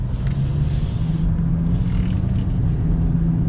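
Ford Maverick Lariat small pickup truck pulling away on a quiet road, with a steady low engine and road rumble throughout from inside the cab, no voices.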